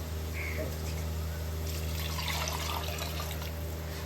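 Tamarind water pours into a clay pot of simmering fish curry, giving a soft, steady liquid trickle under a constant background hum.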